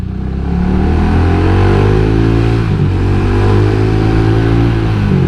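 A loud motorcycle engine revs and holds at a high, buzzing pitch, with a brief dip midway before climbing again. It is close and continuous.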